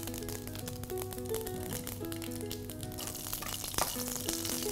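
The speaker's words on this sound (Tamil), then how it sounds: "இந்த மாதிரி இது தாளிக்கிறோது இதுல நம்ம முருங்காவை ஆட் பண்ணிக்கலாம்." Murungakkai (drumstick) pieces sizzle and fry in hot oil tempered with mustard seeds and curry leaves for sambar, a steady close crackling hiss under a faint background tone.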